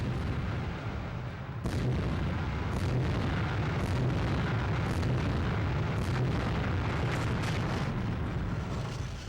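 Nuclear blast in an N64 tank video game: a sustained, loud low rumble of overlapping booms and crackling bursts rolling on for several seconds, with sharper explosive hits punctuating the dense roar.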